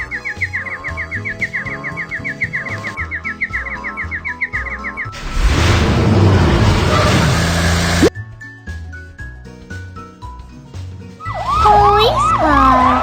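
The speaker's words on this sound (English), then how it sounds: "Police car." A loud wailing cartoon police car siren that rises and falls among electronic tones and other siren sounds, up close with no talking.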